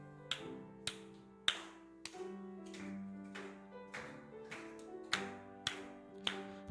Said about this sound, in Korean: 다 같이 한번 힘차게 박수 치면서